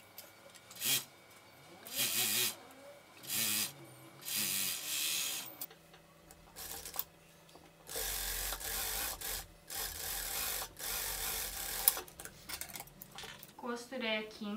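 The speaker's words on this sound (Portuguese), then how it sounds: "eu vou lá pra máquina overlock e passo uma costura pra unir ombro frente e costas" Overlock sewing machine stitching the shoulder seam of a batwing-sleeve dress, joining front and back, heard as short bursts of rapid whirring separated by pauses and handling noises, close and fairly quiet.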